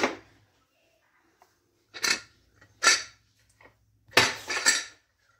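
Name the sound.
pressure cooker lid being removed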